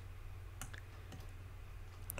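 Computer mouse clicking during Revit Structure 2022 work, a few soft, sharp clicks spaced out over a steady low hum, close and quiet with no speech.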